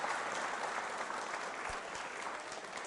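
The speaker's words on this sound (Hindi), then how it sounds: "तालियां जोरों से बजाइए" Steady applause from a school audience at a quiz show, a dense continuous wash of many hands clapping at moderate distance that holds for about three seconds and eases slightly toward the end.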